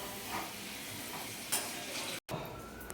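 Potato pieces fry in oil in a pan for a Bengali mutton curry, a steady close sizzle with faint stirring scrapes and a brief clink, briefly dropping out before resuming.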